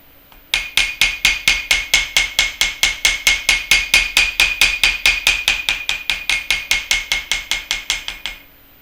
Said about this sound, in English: how hard you hammer it can determine like how flat it's gonna be